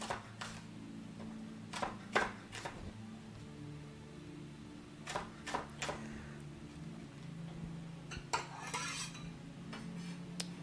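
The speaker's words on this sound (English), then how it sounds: "for our last bit of slicing, got 2 bunches of green onions" A knife slices two bunches of green onions on a board, sounding as quiet clusters of sharp chopping taps separated by pauses over a faint low hum.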